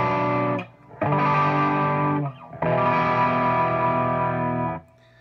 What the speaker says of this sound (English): do that kind of progression without as much gain.